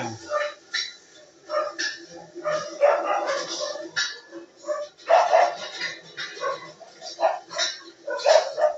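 Repeated barks in short bursts from several dogs, some sharper yips among them, fairly close with no one talking.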